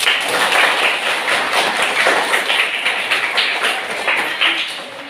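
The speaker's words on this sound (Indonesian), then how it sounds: "Berikan tepuk tangan dong." A classroom group claps together in a dense, continuous burst of applause, loud and close, gradually thinning out toward the end with no talking.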